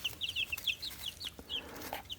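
Two-week-old Rhode Island Red chicks peep in short, high chirps, scattered in quick clusters and then brief single calls, fairly close by and moderately loud with no talk over them.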